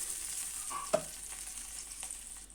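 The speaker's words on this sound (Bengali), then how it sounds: "টমেটো দিয়ে আবারও ভালোভাবে কষিয়ে নিব।" Ground spices and blended tomato are stir-fried in oil for a spiced fish curry, giving a quiet, steady sizzle with a single light clink of the stirring utensil partway through.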